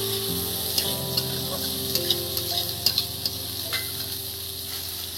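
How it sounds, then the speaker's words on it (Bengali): Chopped onion drops into hot oil with black cumin for a mustard-paste dish, giving a steady, close frying sizzle dotted with small crackling pops and no talking. "এবার এই পেঁয়াজ কুচি দিয়ে দিলাম"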